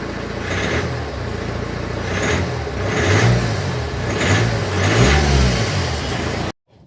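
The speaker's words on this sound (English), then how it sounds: "The Mustang pulling into the drive now." A Ford Mustang pulls into a driveway nearby, its engine rumbling and revving in several rising surges over steady road noise before cutting off abruptly.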